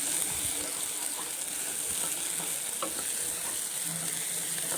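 Onions frying in a pan with a pinch of turmeric, giving a steady, loud, dense sizzle that holds without a break, close up.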